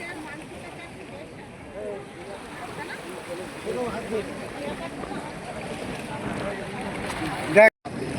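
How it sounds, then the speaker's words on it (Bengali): Sea waves washing against the shore at Digha as trawler boats pass, a steady rushing wash of water with boat noise under a person talking nearby. "এই দেখো ঢেউ চলছে, ট্রলারগুলো আসছে, তো ওই জন্য জলের ধাক্কাটা লাগছে এখানে এসে"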